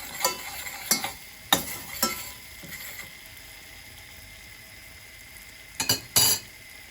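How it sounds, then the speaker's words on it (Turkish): Mint sizzles in butter in a pan under a steady low hiss, broken by scattered sharp clicks and scrapes of a utensil against the pan. "Şurada hemen tereyağında nanesini de yapıyorum."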